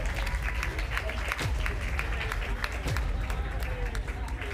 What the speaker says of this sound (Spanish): Lo hace, fuerte aplauso.